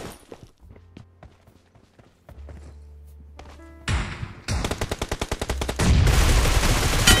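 Gunfire in the mobile battle royale game PUBG Mobile: scattered single shots and thuds at first, then a loud rapid automatic burst followed by heavier sustained firing, with no voices.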